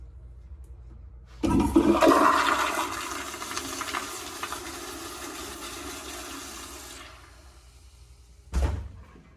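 A loud toilet flush roars and swirls for several seconds in a campground public restroom, then fades as the tank refills, ending with a brief thump.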